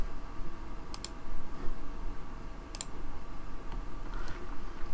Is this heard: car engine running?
no